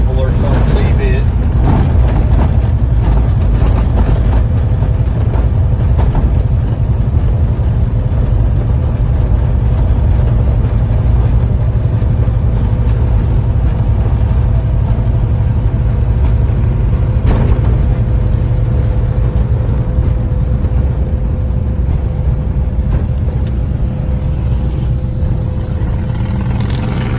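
A 1966 Ford Fairlane fitted with a Cummins diesel engine cruising on a highway, a loud steady low engine drone and road rumble heard from inside throughout, with someone talking over it.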